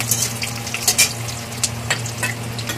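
Potatoes frying in oil in a pan for a vegetarian dish, a steady close sizzle with a faint low hum and scattered crackles and light stirring scrapes.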